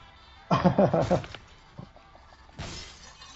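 A glass cage shatters in the video game Beyond Two Souls, a sharp burst of breaking glass followed by scattered tinkling fragments and a second, smaller crash.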